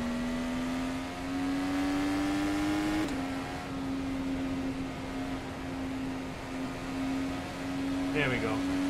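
An IndyCar race car engine on the Indianapolis track holds a loud, steady high-pitched whine, with a sharp upshift partway through, while a voice talks over it.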